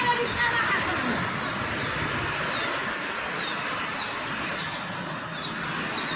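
Heavy rain pours down at Raninagar during a lightning storm, a dense, continuous, close roar that holds steady throughout, with a voice faintly underneath.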